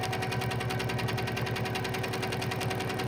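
A sewing machine runs steadily at close range while free-motion quilting circles, a continuous dense mechanical hum with a fast rhythmic patter throughout.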